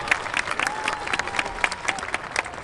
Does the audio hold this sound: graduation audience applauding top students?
yes